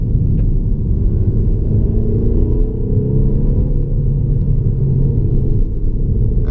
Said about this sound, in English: You can hear the fake sounds coming through the speakers